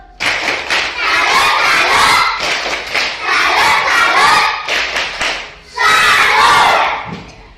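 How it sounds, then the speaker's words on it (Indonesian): A classroom group performing the tepuk salut clapping chant, rhythmic patterned claps in three bursts mixed with shouted voices, loud and close. "Mari kita tepuk salut buat kelompok 2"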